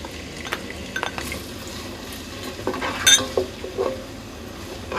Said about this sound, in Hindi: और प्याज को अच्छे से हमने भूनना है।